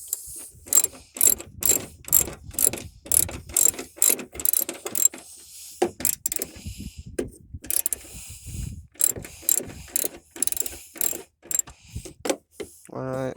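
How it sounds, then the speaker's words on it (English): Ratchet wrench tightening a bolt on a 1995 backhoe, rapid rhythmic clicking bursts up close, repeated stroke after stroke with brief pauses, and a voice speaking faintly in between. "Now I'm going to switch this ratchet to tightening."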